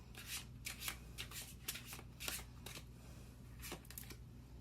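Tarot cards are shuffled and drawn, making soft, quick riffling and flicking bursts in an irregular rhythm, close and quiet over a low background hum.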